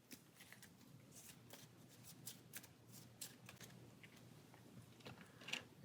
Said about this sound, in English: shuffle that into our deck